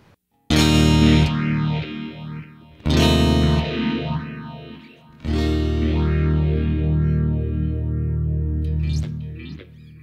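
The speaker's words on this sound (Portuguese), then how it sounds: "Se eu ligar o Steel Singer, eu vou ter uma leve distorção só na repetição do delay." A clean electric guitar runs through delay, phaser and a Steel Singer pedal adding slight distortion on the repeats: three loud struck chords, each ringing out with sweeping phased echoes that trail off, and no voice.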